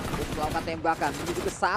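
Rapid bursts of automatic gunfire from a PUBG Mobile match, with excited commentary running over and around the shots.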